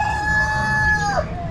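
A rooster crows once nearby in a loud, drawn-out call that rises and then falls away at the end, with low background noise from a backyard bird-feeding area in the afternoon.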